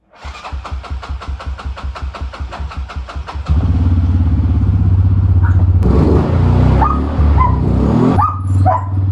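Small all-terrain vehicle engine cranking in a rapid even rhythm for several seconds, then firing and settling into a loud steady idle with brief rises of throttle, close by with no talking.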